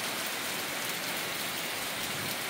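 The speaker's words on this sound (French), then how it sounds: "Quand il pleut ici, c'est la sauce." Heavy tropical downpour in Saint Lucia, a dense, steady roar of rain pounding surfaces, loud and unbroken throughout with no voices.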